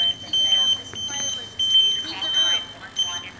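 Connected home alarm devices give off a high, piercing smoke-alarm tone in repeated beeping bursts, while a person talks steadily underneath.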